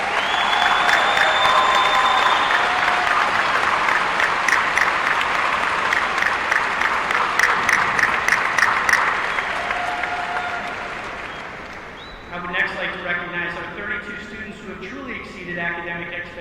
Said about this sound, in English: Join me in a round of applause for these to thank these patrons.